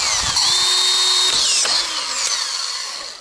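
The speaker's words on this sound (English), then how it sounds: "I got the drill out here." A cordless drill whines in bursts as it drives screws into salvaged, twisted pallet wood for a DIY firewood storage rack, the motor pitch rising and falling through several close, loud runs.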